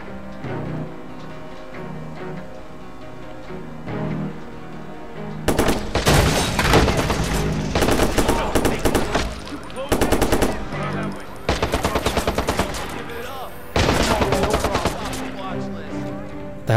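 Gunfire in the Watch Dogs video game, several loud bursts of rapid shots in repeated volleys between pauses, over a low game background.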